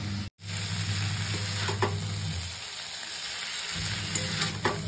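Boiled, oil-coated chowmein noodles tipped into a hot pan with soy sauce and stir-fried street style, giving a steady loud sizzle with scraping stirs; a brief dropout early on, then the frying quiets slightly before picking up again.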